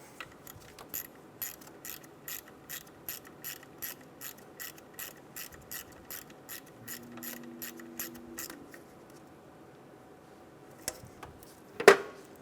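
A ratchet tightens the alternator ground harness bolt on a 2007-2012 Nissan Altima, clicking in an even rhythm for several seconds. The clicking stops, and a few louder metallic knocks follow near the end.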